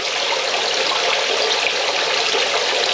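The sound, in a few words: bubbler bubbling water in DIY catfish livewell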